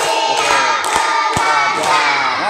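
A classroom full of people clapping hands together on a spoken count, dense overlapping claps in a steady bright wash with a few sharper accented strikes, loud and close.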